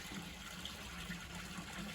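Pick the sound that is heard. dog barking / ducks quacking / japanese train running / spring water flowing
spring water flowing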